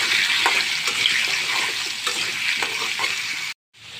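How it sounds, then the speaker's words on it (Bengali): Potatoes dusted with turmeric and salt fry in oil in a pan, giving a continuous close sizzle with occasional stirring scrapes, then a sudden brief cut to silence near the end. "এটার মধ্যে আমি আলুগুলো আগে ভেজে নেব"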